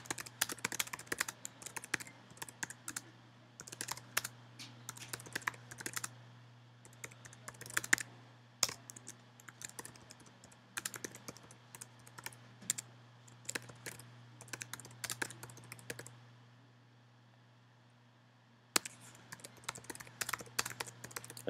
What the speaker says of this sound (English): I'll just type in my question.